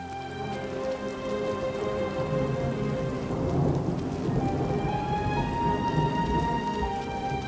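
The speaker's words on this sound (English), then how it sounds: "The rain was eternal, never-ending." Steady rain and rumbling thunder in the town of Leyawiin in a video game: a constant hiss of rainfall with low thunder rolling underneath, loud and unbroken, with no talk.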